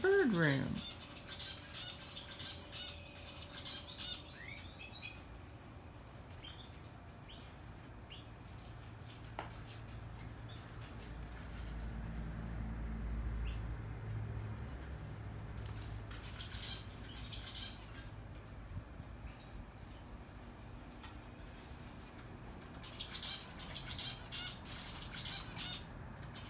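Pet birds in a home bird room giving scattered chirps, squawks and fluttering, moderately near but fairly faint, with a low rumble and some handling noise around them.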